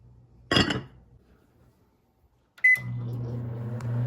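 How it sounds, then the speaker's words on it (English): A microwave oven heats a dish of hot water and butter: a brief clatter of the door and dish, a short beep, then a steady low hum running alone to the end. "we're gonna microwave it"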